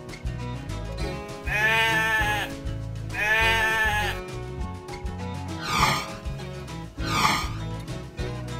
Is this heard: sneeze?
no